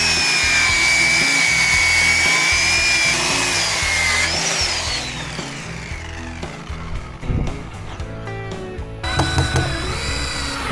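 Loud power saw ripping wooden boards lengthwise into 2x2s, a sustained whine shifting in pitch, then choppier rasping and clattering bursts as the cut ends.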